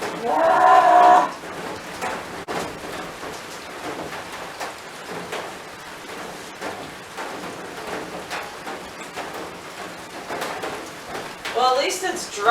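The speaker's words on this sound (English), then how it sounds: "Stop raining! Stop it!" Steady rain patters on an RV throughout, a dense hiss with scattered drops, with brief voice-like sounds near the start and end.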